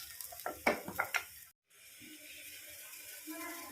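Coconut frying in a pan for mutton gravy, with a few clattering stirs over a faint sizzle, a brief dropout, then a quieter steady frying hiss.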